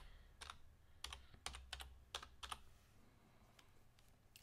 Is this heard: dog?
no